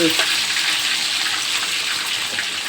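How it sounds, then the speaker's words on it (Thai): Loud, steady sizzling and crackling of sour fermented fish (pla som) frying in hot oil, close up, with a continuous hiss throughout. "น้ำมันของเราก็เดือดได้ที่แล้วค่ะ ใส่ไปเลยค่ะ"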